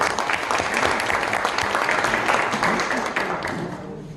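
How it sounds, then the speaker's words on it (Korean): An audience applauds at a Korean National Assembly symposium marking the 80th anniversary of liberation, a steady, full, dense clapping throughout that tapers slightly near the end. "박수 주십시오"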